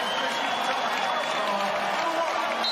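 A basketball arena crowd at a Warriors at Grizzlies NBA game keeps up a steady, dense roar of cheering, with mixed voices blending in throughout.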